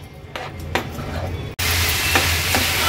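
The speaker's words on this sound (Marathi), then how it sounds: "आता हा भात आपण ह्या गुळ आणि खोबऱ्याच्या पाकामध्ये व्यवस्थित मिक्स करून" Cooked rice being stirred into a jaggery and coconut syrup for sweet coconut rice, with close scraping and stirring strokes in a pan, a steady sizzle, and a sudden jump in loudness halfway through.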